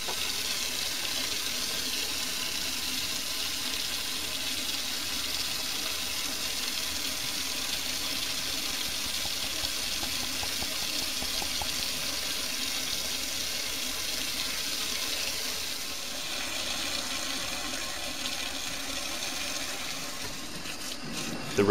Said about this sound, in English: The residue was washed out of the beaker with a bit of water.